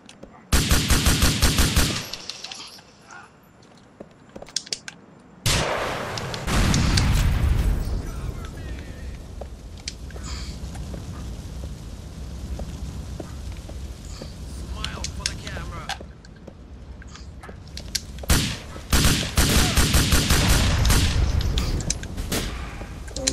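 Gunfire in Grand Theft Auto IV on PS3, including a shotgun blast, comes as loud bursts of shots and booming impacts at the start and near the end, with dense game noise throughout and a voice talking in between.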